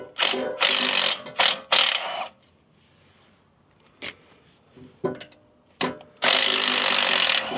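Bursts of a hand ratchet clicking as old steering stabilizer bracket bolts come off a Jeep Gladiator, several loud close runs of rapid clicks separated by quiet pauses, with a few single clicks between them.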